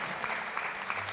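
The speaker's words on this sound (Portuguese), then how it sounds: "Então vamos aplaudir Nossa Senhora" Applause from a church congregation during a Mass, a brief burst of steady clapping from many hands at moderate distance.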